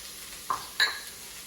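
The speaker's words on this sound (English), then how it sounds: "We're going to start with our vegetables going in the hot oil" Celery and carrots drop into hot oil for fried rice, giving two short, faint bursts of sizzle and stirring close by against a quiet background, with no talking.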